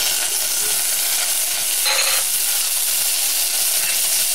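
Onions fry in a pan for Bangladeshi beef curry, nearly browned, giving a continuous close, even sizzle and hiss with a faint stir partway through.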